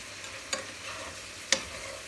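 A spoon stirs butter and onions in a pan while making liver pâté, with two distinct scraping clicks against the pan over a soft, steady sizzle of frying.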